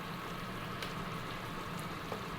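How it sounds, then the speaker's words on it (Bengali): Fish curry gravy at a rolling boil as fish pieces are slipped in, a dense, steady bubbling simmer heard close and alone, with a couple of faint plops. "ঝোলটা ফুটে এসছে, এবার আমি একে একে সব মাছগুলোকে এইভাবে ছেড়ে দিচ্ছি"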